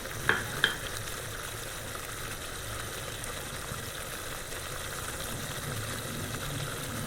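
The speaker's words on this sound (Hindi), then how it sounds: "ज़ीरा पाउडर डालकर अच्छी तरह से भूनेंगे" Chili and cumin powder fry in a pan with a low, even sizzle over a steady background hum, opened by two quick clinks.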